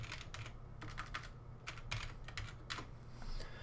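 Quiet computer keyboard typing while code is entered, a steady run of light clicks at close range with no talking.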